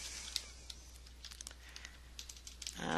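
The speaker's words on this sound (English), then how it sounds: "I can type text." Keys clatter on a computer keyboard as text is entered, a quiet, close run of irregular taps with uneven spacing, ending in a brief rising noise.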